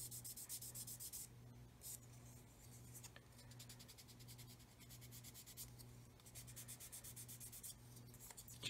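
Quiet back-and-forth rubbing strokes of fine sandpaper on a 1/35 scale Meng 9K37M1 Buk model kit, soft rhythmic scratching in short bursts with brief pauses, close up against a faint steady hum.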